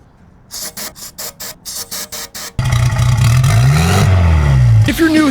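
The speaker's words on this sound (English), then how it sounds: "We're gonna give her the best chance we can with some starting fluid. Hopefully she'll crank right up." A stock 1969 sports car engine primed with starting fluid cranks in a rapid series of starter bursts, then catches and roars loudly with revving close by before sputtering down; a voice is heard over it.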